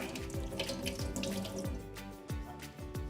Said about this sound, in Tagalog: bago po hiwain ang sibuyas, hugasan muna sa malamig na tubig, katulad po nito.